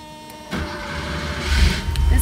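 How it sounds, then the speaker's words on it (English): A 1989 Porsche 911 Carrera convertible with 71,000 original miles is started up: a brief whirring crank, then a low engine rumble that builds and holds close by. "I'm going to get the car started up."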